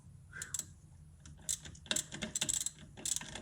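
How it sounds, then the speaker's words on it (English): A bolt is loosened during a Power Stop brake install on a Dodge Charger Scat Pack: close, quiet metallic ratcheting clicks and tool clinks in irregular bursts, with no talk. "First, we're gonna take this bolt loose right here."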